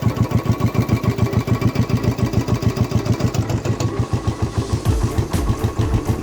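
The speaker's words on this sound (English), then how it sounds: "You have to start it and let it idle for a few minutes." A Royal Enfield Bullet 500 motorcycle idles close by, its single-cylinder engine thumping in a fast, steady, even beat with no talking.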